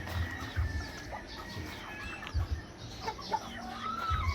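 Native hen of a large-bodied breed clucking near a farm hut, with short low clucks repeating at irregular intervals against faint background bird calls and rustling.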